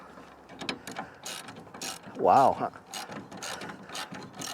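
Ratchet wrench clicking as it loosens the blade nut on an Ariens IKON XD 60 mower, a close run of repetitive ratcheting clicks with one louder burst midway, while someone talks throughout.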